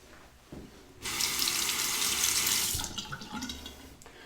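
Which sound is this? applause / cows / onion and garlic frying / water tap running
water tap running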